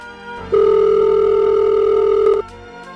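A mobile phone rings with one steady electronic tone that holds for about two seconds, loud and close, with no voices over it.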